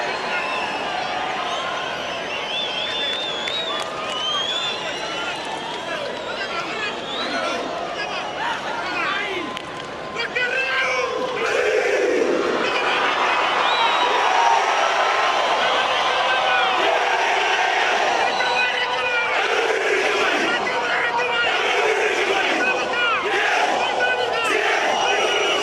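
Stadium crowd roaring and chanting during the Fijian cibi war dance before a Wales versus Fiji rugby union match in Hamilton, New Zealand, a dense, steady roar that swells louder midway, with shouts and battle cries throughout.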